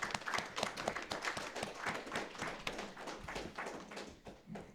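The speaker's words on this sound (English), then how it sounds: "Give yourselves a round of applause." An audience at a high school championship press briefing claps steadily, with distinct individual hand claps forming a dense, continuous patter from a modest crowd.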